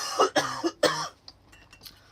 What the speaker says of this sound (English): still got this bothering cough.